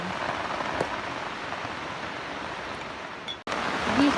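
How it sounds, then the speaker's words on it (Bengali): Heavy rain pours down in a dense, steady hiss, drumming on surfaces nearby with no pauses. "বৃষ্টি আরম্ভ হয়ে গেছে আর প্রচণ্ড জোশে আর কি বৃষ্টি পড়ছে"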